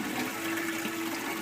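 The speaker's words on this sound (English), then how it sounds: "It actually is being sucked out of that pipe into that 1-inch pipe down into the sump tank" Water drains steadily through an aquaponics bell siphon and a 1-inch pipe into a sump tank, a continuous close gurgling rush with no break.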